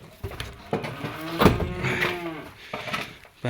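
Cows lowing on a farm, several long moos rising and overlapping at close range over a few seconds, with no talking.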